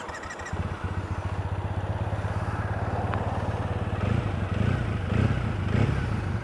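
A 2014 Triumph Bonneville motorcycle engine runs with a deep, throaty, steady rumble close by, rising briefly in a few revs near the end.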